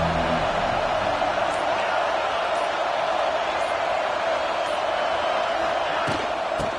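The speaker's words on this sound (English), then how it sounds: "This crowd ready to make its presence known." A stadium crowd at a Tennessee at Clemson college football game roars in a steady, loud, continuous wash of noise, with a few sharper shouts rising out of it.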